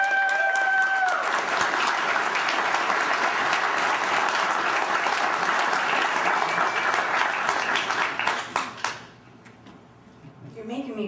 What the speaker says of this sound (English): So please give a big round of applause for Catherine Bleish